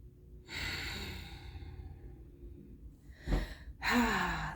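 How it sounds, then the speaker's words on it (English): Deep breaths are drawn and released outdoors: a long slow inhale and exhale, then a sharp quick intake followed by another airy breath, close and fairly soft. "Take another deep breath."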